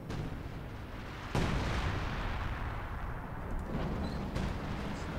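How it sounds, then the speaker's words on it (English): Artillery shells pound a mechanized building during a 4v4 Company of Heroes 2 battle on the Red Ball Express map: a continuous rumbling barrage with two sharp, loud blasts standing out. "Artillery hitting the mechanized building"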